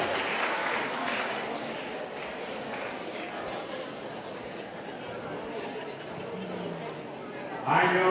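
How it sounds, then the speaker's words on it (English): Audience applause at a leadership summit in Jamaica, heard over loud crowd chatter. The clapping is dense at first and thins as the conversation grows, and voices talk throughout. "Give yourselves a round of applause"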